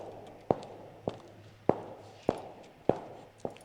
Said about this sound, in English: there is a woman in high heels walking down a marble hallway